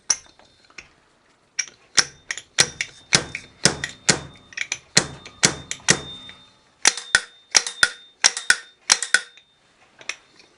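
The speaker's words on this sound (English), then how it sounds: "Your little slide hammer." A slide hammer drives a fork seal into the fork of a 2005 Yamaha FZ6 Fazer motorcycle, sharp metallic knocks struck in quick irregular bursts, close and loud, with short pauses between groups of blows.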